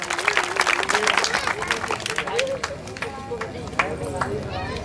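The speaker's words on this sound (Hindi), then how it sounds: "जोरदार ताली बजाकर इनका स्वागत करें।" An audience at an indoor Indian community celebration claws up a burst of clapping as schoolgirls are called onto the stage, the applause rattling on under a loud amplified voice and crowd noise.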